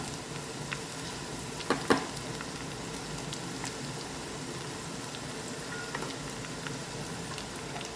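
Green mango pickle mixture sizzles steadily in hot oil as it is stirred, a dense, even crackle running throughout with a couple of louder spatters near the start; no talking.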